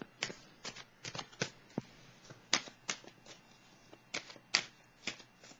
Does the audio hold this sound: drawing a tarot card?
yes